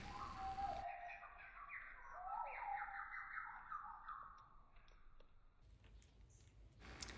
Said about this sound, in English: Listen to the birds in slow-mo.